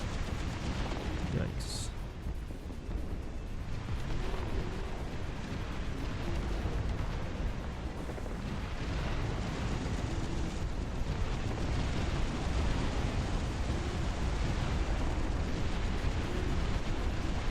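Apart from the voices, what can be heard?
bombs exploding in video game Dust Front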